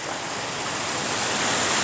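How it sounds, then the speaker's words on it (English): A large mountain spring gushes out of a hillside in winter, giving a steady, dense rush of water that holds constant and fairly close throughout. "This is a huge spring coming right out of the side of the mountain here"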